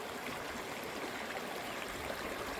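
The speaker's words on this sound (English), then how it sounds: "I hope I'm close enough that you can hear the water." A small stream of flowing water makes a soft, continuous babbling rush outdoors in nature, faint and steady with no talk or other sounds over it.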